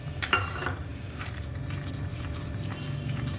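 A spoon knocks and clinks against a pot as egg white is stirred into chicken sweet corn soup, with one sharp clink at the start followed by soft, steady stirring, close and fairly quiet.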